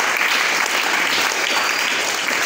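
Applause rising from the crowd at a church conference as the congregation acclaims the Lord, dense and sustained clapping from many hands filling a hall without a break for a couple of seconds.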